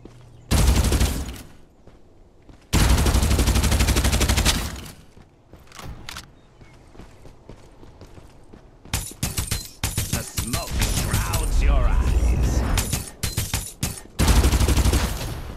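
Bursts of gunfire from the battle-royale shooter Farlight 84, loud and close, firing in long sustained volleys separated by short quiet gaps, with rapid clusters of shots near the end and no talk.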